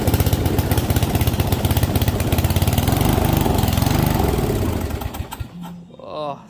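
A Yard Machine MTD 125/38-inch six-speed riding mower engine cranks, catches and runs with a loud, rapid chugging beat, then sputters and dies down near the end.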